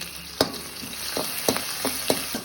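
Green chili and garlic sizzle in a hot pan while egg idiyappa kottu is being made, a steady frying hiss broken by repeated sharp scraping clicks as the ingredients are stirred.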